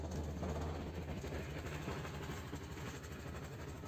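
A Honda Beat scooter engine (2022 model) idles steadily at close range, a low continuous rumble with slight vibration and no talk.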